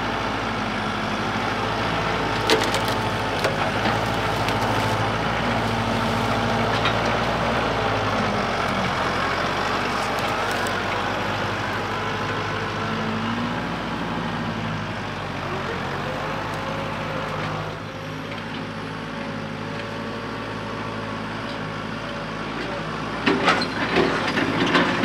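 A tractor engine runs steadily while hauling tree stumps, a loud, continuous diesel drone with shifting load over about 25 seconds and a few clanks near the end.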